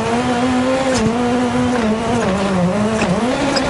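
A Toyota Yaris rally car in WRC 9 races through muddy Welsh stages, its engine droning steadily and loudly throughout with a sustained high rev note that dips and climbs slightly.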